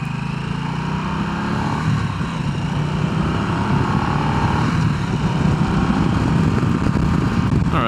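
A Harley-Davidson Nightster Special motorcycle being ridden, its engine a loud, steady low rumble mixed with wind roar through the whole stretch, with no talking.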